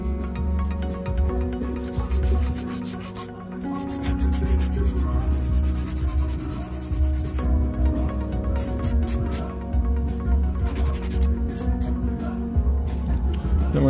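An acrylic stiletto nail is filed to bevel the C curve. The file makes a steady, close rubbing rasp that runs continuously throughout, with a faint voice under it.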